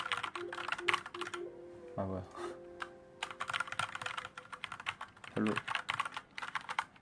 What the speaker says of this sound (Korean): 타자 치는 소리가 좋다고 하셨는데